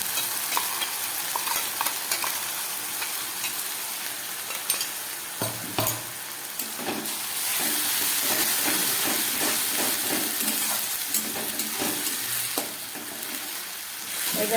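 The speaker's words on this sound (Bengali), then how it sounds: "এবার এই মশলাটাকে খুব ভালোভাবে কষাবো আমি।" A ground spice paste sizzles and hisses in a pan with fried onion and tomato for a chickpea curry. A spoon stirs and scrapes through it steadily in a continuous close-up frying sound, with no talking.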